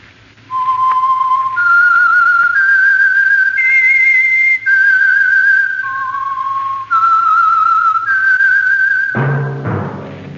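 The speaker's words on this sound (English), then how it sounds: "That whistle is your signal for the Signal Oil Program, The Whistler." The whistled theme signal for The Whistler, the Signal Oil radio mystery program: a loud, clear solo melody of long sustained notes rising and falling over a faint low hum, cut off near the end by a short, dense burst of music.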